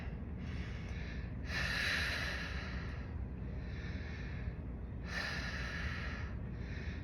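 Loud, close breaths alternate during a chest press exercise: long, airy inhales and exhales come in a slow, regular rhythm, roughly four breaths in seven seconds, with no talking.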